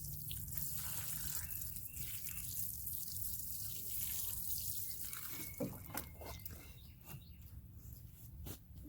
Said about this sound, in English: The blessing of rainwater to my ground cherries.